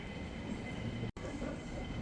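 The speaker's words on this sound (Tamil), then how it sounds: "வந்துருச்சு நம்ம ட்ரெயினை" An airport train pulls in, its steady rumble and rail noise filling the space, with a brief dropout midway before the rolling sound resumes.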